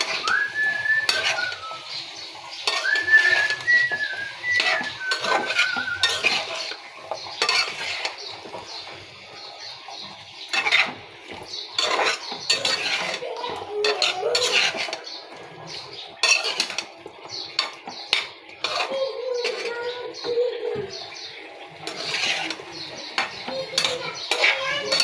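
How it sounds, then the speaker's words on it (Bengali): Papaya being sautéed with stinging catfish in a pan, with repeated clanks and scrapes of a spatula against metal over a faint sizzle, along with occasional whistling and birdsong in the background. "পেঁপে দিয়ে দিলাম, ভালো করে কষিয়ে নেব।"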